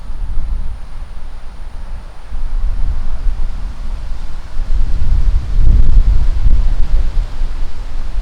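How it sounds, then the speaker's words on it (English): Low rumbling wind buffeting the microphone, gusting stronger toward the middle and staying rough and loud throughout. "It is windy."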